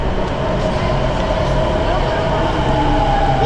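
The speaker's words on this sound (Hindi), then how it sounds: "तो मेट्रो आ चुकी है हमारी।" A metro train arriving, heard as a loud, continuous rumble with steady rolling noise and a faint high whine, thick and unbroken from start to finish.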